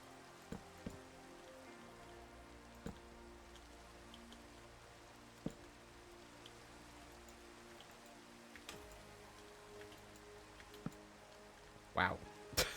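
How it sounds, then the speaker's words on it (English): Rain falls in the video game Minecraft as a soft, continuous patter with scattered drip-like clicks and a few sharper taps near the end, steady and fairly quiet throughout. "I wish I could get rid of this rain."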